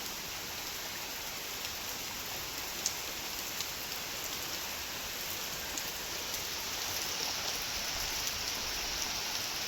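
Steady rain falling through a papaya tree, a dense even hiss of drops pattering on surfaces throughout, moderately quiet with no voices.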